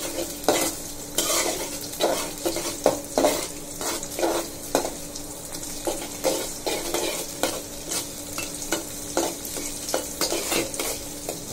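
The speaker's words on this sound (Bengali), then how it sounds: "আমি আরেক চুলায় লাল শাক ভাজি করার জন্য মরিচ, পেঁয়াজ, রসুন তেলে ভেজে নিচ্ছি" Chilli, onion and garlic frying in hot oil on a stovetop for a red amaranth stir-fry, a steady close sizzle broken by repeated scraping strokes of a stirring spoon against the pan, with no voices.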